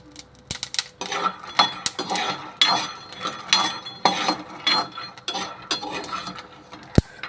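A spoon stirs and scrapes lentils dry-roasting in a metal pan for an immunity-boosting recipe, giving a steady run of clinking, rasping strokes at close range with one sharp metallic knock near the end.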